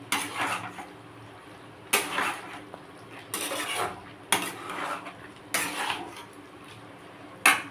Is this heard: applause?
no